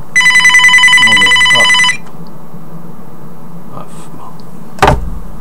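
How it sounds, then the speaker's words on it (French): An old telephone bell rings loudly and continuously for about two seconds, then stops, leaving a quiet room with faint murmurs and a brief sharp knock near the end. "téléphone sonne."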